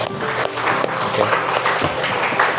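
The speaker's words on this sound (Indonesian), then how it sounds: "kita beri tepuk tangan dulu buat kelompok 6" A class applauds group 6 after its presentation, a close, lively patter of clapping hands from a modest crowd of students, with a brief spoken word near the start.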